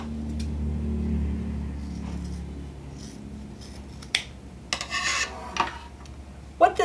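Scissors snip off the corners of fabric cut for a face mask, giving a few close, short snips and rasping cuts after a stretch of soft rubbing and handling.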